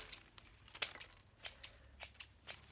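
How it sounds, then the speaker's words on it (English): Scissors trim the bristles of a homemade paintbrush, a series of short, crisp snips at an irregular rhythm, close and fairly quiet, with no talking. "And I can trim that if I want to with a pair of scissors."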